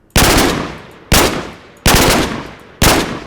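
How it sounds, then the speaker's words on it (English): Three-round bursts of gunfire in Minecraft ring out four times at roughly one-second intervals, each loud sharp crack decaying quickly before the next, with no talking. "Three burst shots."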